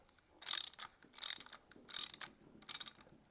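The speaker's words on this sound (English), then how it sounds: "That's going to take an 1¼ inch socket to tighten that fitting up." A ratchet fitted with a 1¼ inch socket tightens an aluminum fitting on a clear-view oil filter setup, producing four short, sharp bursts of close ratcheting clicks at a steady back-and-forth rhythm with quiet gaps between strokes.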